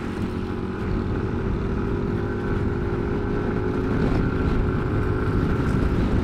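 A 2025 Yamaha NMAX Techmax 155 scooter engine holds a steady high-rpm drone, loud and continuous from up close with little change in pitch.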